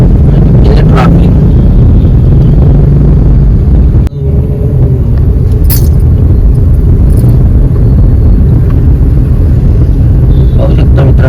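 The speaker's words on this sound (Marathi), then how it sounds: "ट्रॅफिक" Road traffic on a motorbike ride near Alandi, Maharashtra: a loud, continuous rumble of passing vehicles with heavy wind buffeting, dipping briefly midway before resuming at full strength.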